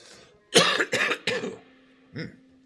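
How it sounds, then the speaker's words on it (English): A person clears their throat with three close rough bursts, then a smaller fourth one after a pause, close and fairly loud with no talking. "Clear my throat."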